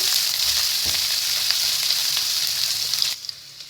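Finely chopped vegetables and hot green chilli sauté in a pan for a vegetable soup, giving a steady, close, even sizzle with no talking that drops off abruptly just before the end.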